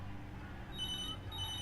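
A telephone rings in the video game Beyond Two Souls, a faint electronic trill over a steady low background hum, with repeated ringing tones heard without talk.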